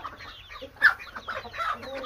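Chickens clucking close by, a few short bursts and squawks with a louder cluck in the middle, no talking.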